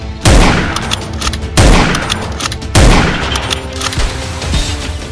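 Gunfire in a comic-style action scene: three heavy booming shots spaced about a second apart, loud and close, each trailing into a rumbling decay over background noise.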